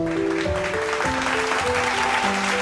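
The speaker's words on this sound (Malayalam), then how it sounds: "നല്ല കയ്യടി കൊടുത്ത് നമ്മുടെ സൺഡേ സ്റ്റാർ ആയിട്ട് ഇന്ന് തിരഞ്ഞെടുത്തതാണ്" Steady applause at a parish gathering at St Mary's church, honoring a child chosen as Sunday star, fills the clip throughout with sustained musical tones running alongside it.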